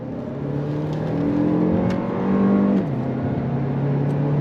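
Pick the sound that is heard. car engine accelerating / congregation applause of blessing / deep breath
car engine accelerating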